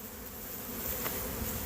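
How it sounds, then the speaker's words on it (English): A soft, continuous drone of many honeybees buzzing nearby at a hive colony, low and steady throughout. "A lot of bees."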